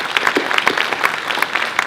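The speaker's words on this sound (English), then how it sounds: "Give a round of applause." Audience applause at a wealth and property expo, a dense steady wash of many hands clapping throughout, fairly loud and with no voices over it.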